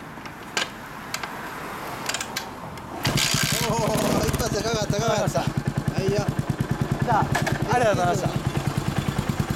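A 1997 Yamaha SR400 single-cylinder motorcycle kick-started at an outdoor café, firing on the first kick into a loud, close, thumping idle that pulses steadily, with someone speaking briefly before the start.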